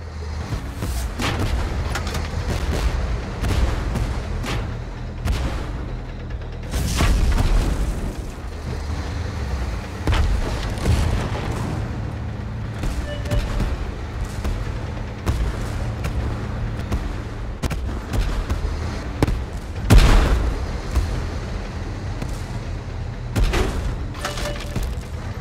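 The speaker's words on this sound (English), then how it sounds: "We are under bombardment!" Artillery bombardment in the tank battle game Tank Force: repeated deep booms and blasts, several heavy impacts rolling together over a constant low rumble, loud and close.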